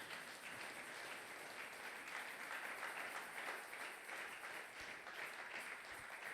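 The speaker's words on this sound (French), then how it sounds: "Est-ce que tu peux acclamer pour la gloire de Jésus?" A church congregation at a Sunday worship service applauds in praise of Jesus, steady faint clapping that continues for several seconds without a break.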